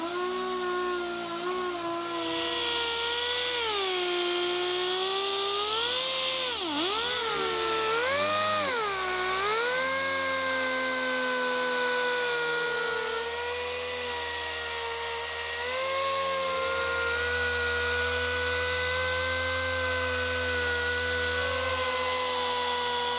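Machine polisher working a sanded headlight on a Mitsubishi Evolution 9, giving a continuous loud whine whose pitch dips and swings as pressure changes, then holds steady for a long stretch.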